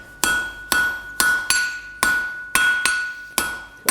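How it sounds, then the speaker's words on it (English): A blacksmith hammers hot steel on an anvil while forging the point of a set eye hook. Seven sharp, ringing metallic blows land at an even pace, close and clear, with no talk. "Forge that down to a point first."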